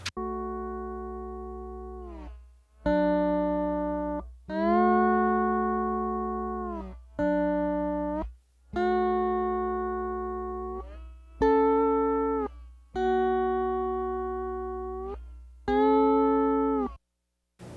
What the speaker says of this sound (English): The lap steel sounds pretty cool.